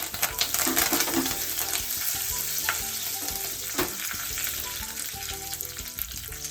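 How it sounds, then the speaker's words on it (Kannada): Curry leaves and dried red chillies crackle and sizzle loudly in hot oil close up, with sharp popping bursts and some stirring. "ಕರಿಬೇವು ಹಾಕ್ತಾ ಇದ್ದೀನಿ."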